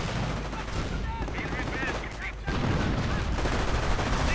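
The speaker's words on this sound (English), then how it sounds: "Stu 42 opening fire on the building, blowing apart quite large part of it alongside a shed" Dense, continuous WWII battle noise from a strategy video game: a StuG 42 assault gun shelling a building and shed amid rifle and machine-gun fire. The din is loud and unbroken and swells slightly toward the end, with a voice faintly under it.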